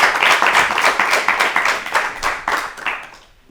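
A small group claps for students on an Ethiopian children's TV quiz show, with steady, fairly quick hand claps for about three seconds before fading out. No one speaks.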